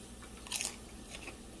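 A close, brief crunchy bite into homemade salted fried chips, followed by a couple of softer chewing crunches, with no talk.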